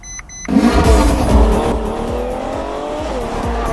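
Ferrari F12 Berlinetta starting with a loud V12 engine roar, climbing sharply then settling into a steady high-pitched drone with tire noise, close and dominant.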